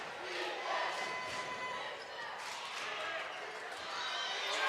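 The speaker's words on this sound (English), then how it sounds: "Crowd starting to get into it." Crowd at a girls' high school basketball game, a broad sustained roar of cheering and voices rising in energy, with sneaker squeaks and court noise mixed in.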